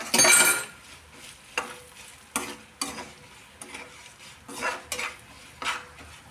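Egg rice stirred in a pan with chili powder, salt and turmeric, a loud opening scrape followed by repeated spoon-on-pan clinks and scrapes over a light sizzle, close by with no speech.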